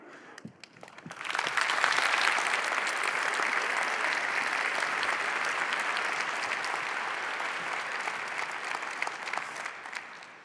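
Applause from a conference audience after a talk on mobile data interception, opening with a few scattered claps before swelling into a full, sustained round that slowly tapers.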